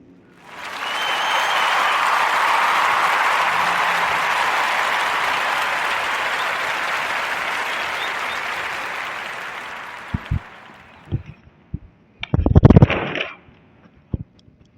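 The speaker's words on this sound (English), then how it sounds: "give a warm narrative podcast round of applause for Mrs. Shanisha Dodson." A podcast audience gives a round of applause, a broad, even wash of clapping that holds for about ten seconds, then fades into a few scattered bumps and handling noises near the microphone.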